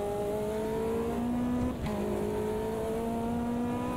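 Caterham 620R race car engine in the Automobilista 2 racing game, a steady loud drone with a harmonic whine that dips briefly mid-clip as the car lifts for a corner, then holds again on throttle.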